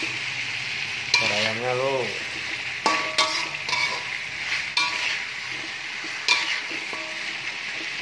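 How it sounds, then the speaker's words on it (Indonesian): Chicken feet are stir-fried with spicy mercon paste, a steady close sizzle under repeated sharp scrapes and clanks of a spatula against the pan, while a person speaks briefly near the start. "nah ini aduk terus biar merata, biar merasuk dalam ceker ayamnya bumbunya ya"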